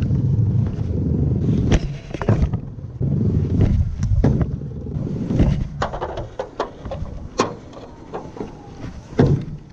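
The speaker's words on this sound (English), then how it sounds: "Oh man, it's super windy." Strong wind buffets the microphone in a constant low roar on a street where someone is skateboarding, with sharp gusts and clattering knocks breaking through.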